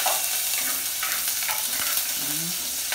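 Chopped onion frying in a little hot oil in a pot, a steady close sizzle with occasional soft scrapes and stirring sounds, no talking.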